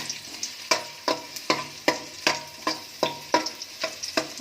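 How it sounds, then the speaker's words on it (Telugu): Thinly chopped garlic frying in a pan for egg fried rice sizzles steadily, broken by about a dozen regular scraping stirs of a spatula, close and clear with no voices. "అది వేసుకున్న తర్వాత కొద్దిగా దోరగా వేయించుకోవాలి."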